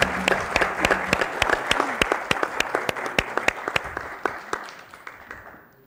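Studio audience applause on a talk show, a loud burst of dense clapping that gradually thins into slower, separate claps before fading out.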